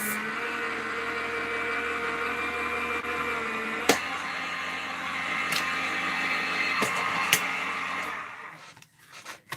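A Gemini die-cutting machine hums and whirs steadily at close range, with a few sharp clicks along the way before it winds down and stops.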